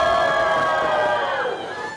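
A crowd in Georgia cheering for Trump after a hurricane, a loud continuous mass of shouts and whoops with tonal voices rising and falling, fading slightly at the end.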